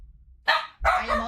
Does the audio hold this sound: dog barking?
yes